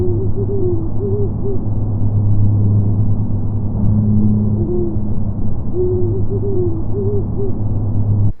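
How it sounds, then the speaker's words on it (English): Great horned owls duet outdoors, a lower male hooting answered by a higher female hoot, soft repeated phrases rising over a steady low rumble of distant traffic. "So you might hear a lower hooting and then a higher hooting in response to that."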